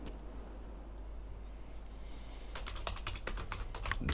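Typing on a French computer keyboard, heard faintly and up close over a low steady hum, with a quick run of clustered key clicks in the last couple of seconds.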